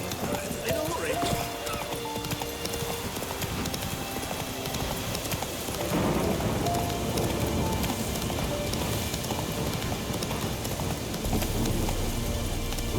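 Roach, a horse in The Witcher 3, galloping with rapid steady clip-clop hoofbeats throughout, close and fairly loud, under rain-like noise and voices speaking.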